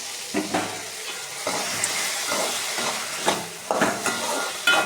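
Tomatoes for mint chutney sautéing in hot oil in a pan, a continuous sizzle broken by repeated scraping stirs at an uneven rhythm, close and fairly loud.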